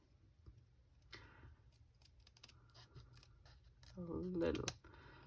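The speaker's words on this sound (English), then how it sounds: "So what I did with this square, I just went from one corner to the other and just cut out a little" Scissors make a few short snips through a small piece of paper while a square is trimmed corner to corner for a handmade October greeting card. The cuts are soft and close, ending in a louder snip near the end.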